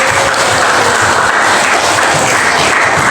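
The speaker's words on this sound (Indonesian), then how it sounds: "Oke, tepuk tangan dulu." Applause from a class of students in an Indonesian secondary school lesson, a dense, steady burst of clapping lasting a few seconds, loud and close, with no voices over it.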